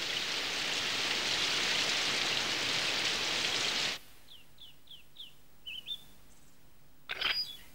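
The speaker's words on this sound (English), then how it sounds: "Oh, it's raining." Steady, loud hiss of animated cartoon rain fills the first four seconds, then cuts off abruptly, followed by a quiet stretch with a few short chirps and a brief rustle.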